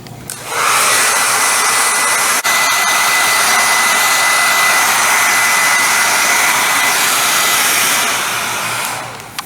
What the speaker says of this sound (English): we're going to blow dry this little guy here in a minute